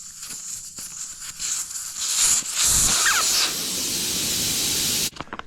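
Air hisses loudly and steadily out of a fat bike tire inner tube as the valve core is removed on a Cyrusher Rover fat tire e-bike, rising after a quiet start and cutting off abruptly near the end.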